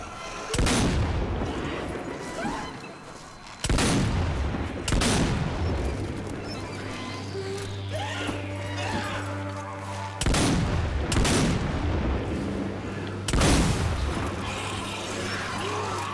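Heavy gunfire and booming blasts in the Zombie Army 4 shooter, set in a jungle, come in four loud bursts spaced several seconds apart, each fading into a ringing tail.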